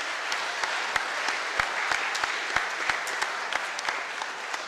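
A school audience gathered for a spring athletic assembly claps steadily, a dense, even patter of many hands with a few sharper claps standing out, sustained for several seconds in a large hall.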